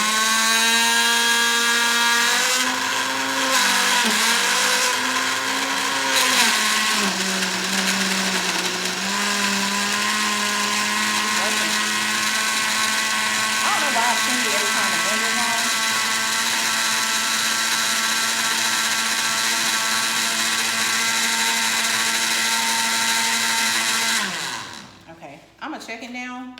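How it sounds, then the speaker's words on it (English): A countertop blender whirs loudly and steadily for about twenty-five seconds blending a piña colada creamsicle mocktail mixture with no ice, its motor pitch shifting slightly as the contents churn, then winding down and stopping near the end. "let's go ahead and turn our blender on"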